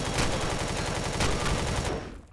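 Rapid automatic turret gunfire in Empyrion Galactic Survival, a dense, loud burst of repeated shots that carries on steadily and then cuts off and fades near the end.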